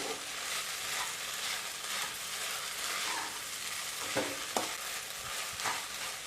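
Sabudana khichdi sautés in a pan, a steady close sizzle of frying broken by a few sharp scrapes and knocks of a spatula stirring it evenly, with no talking.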